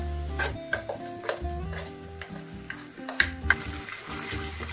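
Onion and spice masala frying in a pan for a jackfruit curry, with a steady sizzle under repeated sharp ticks and scrapes of a spoon stirring against the pan, close and moderately loud.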